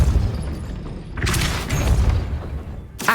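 Depulso force spell cast in Hogwarts Legacy, heard as a loud whooshing blast that bursts in after a low rumbling bed, followed by a second sharp burst near the end, with no talking.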